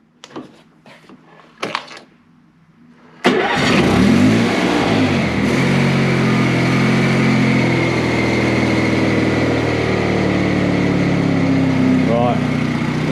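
A Honda HT 3813 lawn mower engine cranks with a few short bursts, then catches and runs steadily at a loud, constant drone in a garage.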